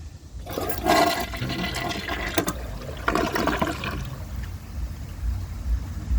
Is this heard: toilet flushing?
yes